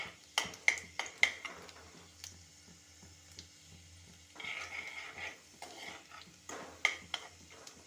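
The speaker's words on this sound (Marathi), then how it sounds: "यामध्ये आपण हे जे वाटण वाटले ते आपण ह्यामध्ये टाकून घेऊ" Ground masala paste is stirred into a hot pan for a tangy, spicy fish curry: scattered sharp clinks and scraping taps against the pan over a faint low sizzle, with a softer wet, squishy stretch in the middle.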